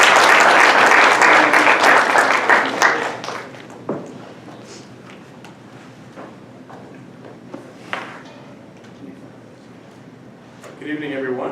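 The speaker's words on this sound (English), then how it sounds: "Please join me in a warm round of applause to welcome our speaker, Dr. Dickson" Audience applause welcoming the guest speaker at an evening lecture event, loud and dense clapping for about three seconds, then fading to scattered claps and room noise, with a brief burst of clapping returning at the end.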